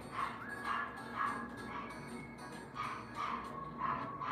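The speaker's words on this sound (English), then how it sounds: "Do you hear this dog?" A dog barks in a series of short, fairly faint yaps from some distance indoors, repeating in small bursts with no talk over it.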